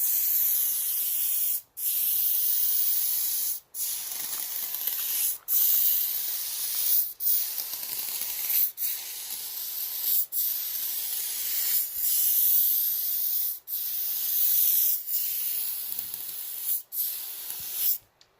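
Solvent-based contact adhesive sprayed outdoors onto laminate countertop edges, a steady loud hiss in long bursts with about nine brief pauses between passes.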